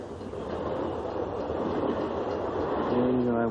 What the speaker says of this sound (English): The train. Fabulous.